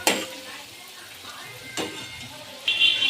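Okra curry cooking in a pan over a medium flame sizzles softly as it is stirred, with sharp scraping and clinking strokes at the start and again midway, then a brighter sizzle rising near the end.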